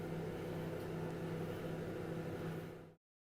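An oven running in convection mode gives off a steady, even fan whir with a low hum, then cuts off abruptly near the end.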